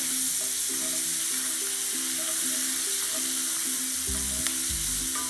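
Red onions sizzle steadily as they cook down in a pan, a continuous close frying hiss with a few soft stirring knocks and a brief heavier scrape near the end, no voices.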